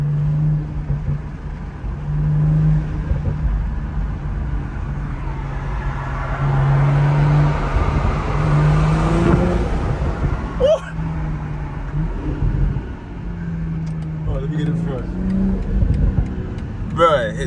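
A 2020 BMW M340i xDrive with an MST intake inlet revs and pulls under acceleration, a steady engine drone rising in a long sweep and dipping, heard from inside the cabin with brief talk over it.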